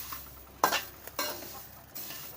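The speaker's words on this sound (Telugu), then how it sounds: "అలా లైట్గా ఎల్లో కలర్ వచ్చేలాగా వేగించండి." Eggshells being roasted until lightly yellow and stirred in a pan, with a few distinct scraping stirs and faint crackling between quiet pauses.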